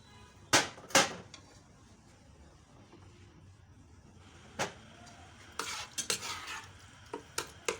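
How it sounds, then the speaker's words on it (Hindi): A spoon stirs a keema mince mixture in a pan while cooking cheese keema naan, giving a few sharp scraping clinks early on, then a quiet gap followed by a cluster of quick clattering strokes. "चम्मच से हिलाना है इसको चम्मच के साथ।"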